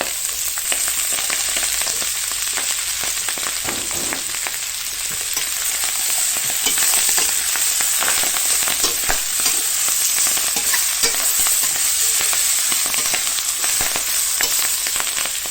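Crispy pork and Chinese kale stir-fry in a hot pan, a loud continuous sizzle with dense crackling and frequent scraping tosses, no voices over it.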